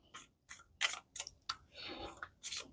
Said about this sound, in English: Let me shuffle a couple more times.